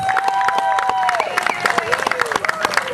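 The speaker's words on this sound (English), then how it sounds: "Everyone give these kids a big, brave round of applause" An audience at a festival show applauds for a group of kids, dense clapping from a crowd close by, with a faint whistle and voices chattering underneath.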